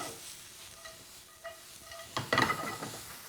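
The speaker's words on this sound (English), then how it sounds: "I'm going to sweat my onions down a little bit," Onions sweat in a pan with a soft, steady sizzle, broken by a few clinks and a louder burst of stirring scrapes toward the end.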